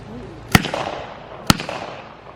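A Sten gun at a wartime Britain display fires two sharp, loud single shots about a second apart, each a crisp crack followed by a short echoing tail, with no voices in between.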